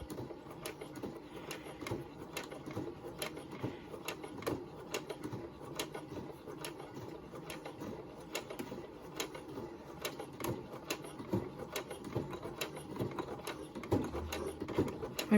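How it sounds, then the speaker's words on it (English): A home sewing machine stitching slowly through thick layers of fabric for a face mask, with faint quiet stitch clicks in a steady rhythm that speeds up slightly toward the end. "My machine likes to get stuck sometimes in one place. Just finding it a little bit too thick there with the layers."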